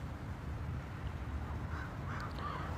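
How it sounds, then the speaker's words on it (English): A few crows caw faintly in the distance over a steady low background rumble, with the calls clustered toward the end. "Stupid crows."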